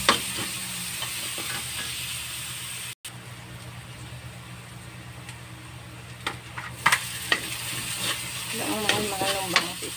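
Sautéing in pan oil left from frying milkfish (bangus), a steady close sizzle with sharp pops and stirring clicks, and a voice speaks briefly near the end.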